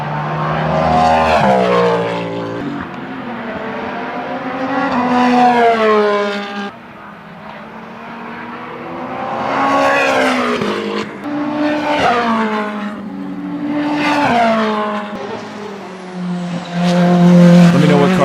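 Lamborghini SC63 and other WEC prototype race cars scream past in a run of loud, fast flybys, each engine note rising and then dropping sharply as the car passes close by, one after another with no talking.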